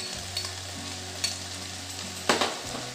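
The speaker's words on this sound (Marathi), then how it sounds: "आता हे सर्व आपण छान परतून घेऊ" Onion, tomato, red chilli powder, coriander-cumin powder and turmeric sizzle steadily in a pan for moth bean usal, with a few louder stirring scrapes cutting through the continuous frying hiss.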